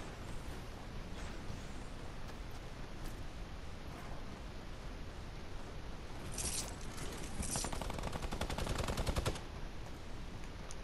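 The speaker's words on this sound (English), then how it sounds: "He starts firing at my mates there with a minigun." Minigun fire in the video game Fortnite: faint distant shots, then a rapid, continuous burst of automatic fire that swells louder for a few seconds over quiet background noise.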